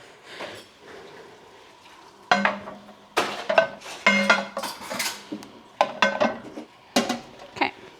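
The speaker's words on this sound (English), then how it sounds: "And then I'm gonna put my jars of meat in here." Glass jars of meat are set into an All-American pressure canner holding water, producing a series of sharp clinks and knocks of glass against metal, irregular and close, with quiet pauses between.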